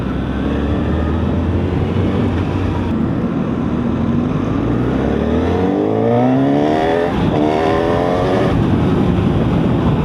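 A 2025 Honda Hornet 1000 motorcycle braking and downshifting. The engine drone is loud and continuous, with engine pitch sweeping down and back up through gear changes under steady rushing wind noise.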